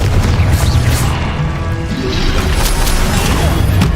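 Booming spell blasts from Confringo in Hogwarts Legacy, a dense run of heavy low thuds and crashes rolling together over about four seconds, loud and close.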